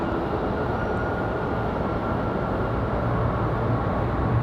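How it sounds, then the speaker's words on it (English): American Airlines Boeing 737 taking off from Raleigh-Durham airport, a loud, continuous broadband jet roar holding steady across the whole stretch, with no voices over it. "American 737 off to Miami."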